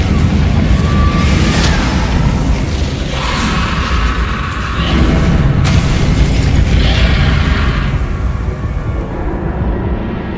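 Spell explosions and magical combat in the Hogwarts Legacy video game, including the fiery Confringo blast, come as loud booming bursts over a dense, continuous rumble of game effects, with several sharp impacts spread through the passage.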